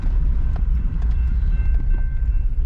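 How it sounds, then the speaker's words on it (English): A short train rolls past close to a parking lot, giving a steady, loud low rumble with faint rhythmic clacking running through it. "That looks like a short train though."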